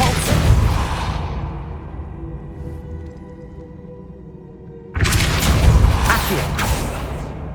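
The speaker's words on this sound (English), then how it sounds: "Depulso." A Depulso spell in the video game Hogwarts Legacy lands as a deep booming blast that fades into a low hum, and a second whooshing boom hits just as loud about five seconds later.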